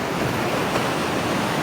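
Sea surf rolling onto a Bicol province shore in the early morning, a steady broadband wash of waves with wind noise on the microphone, continuous and fairly loud, no voices.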